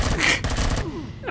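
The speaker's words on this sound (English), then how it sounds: "Why is there gunfire going off?" Gunfire goes off in Empyrion Galactic Survival multiplayer: a loud, dense burst of rapid shots that fades into a trailing tail, with no talking.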